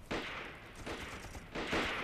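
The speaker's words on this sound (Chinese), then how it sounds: "院子怎么有枪声啊？" Gunfire in a martial arts war film set in a courtyard, three loud bursts of shots spaced evenly over a couple of seconds.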